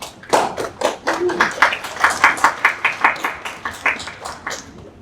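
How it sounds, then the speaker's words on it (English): Applause at a town hall meeting for a neighborhood lead, a sustained round of rhythmic clapping from a small indoor crowd, fairly close and steady throughout. "I'm sure he appreciates that applause"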